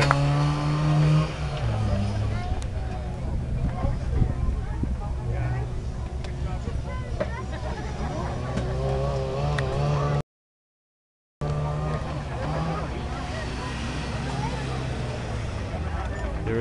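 A car engine drones loudly at speed, its pitch rising and dropping as it accelerates through the gears, with voices talking over it and a brief gap of silence partway through.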